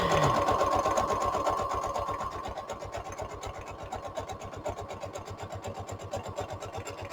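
Sewing machine stitching a fabric journal cover, its needle hammering in a fast, steady mechanical rhythm with a motor whir, close and continuous after a brief louder start.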